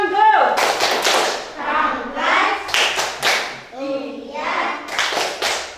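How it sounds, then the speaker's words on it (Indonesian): Children in a classroom clap together in several bursts of dense, fairly close applause, each swelling and fading, with young voices chanting between the rounds. "Oh, tepuk tangan."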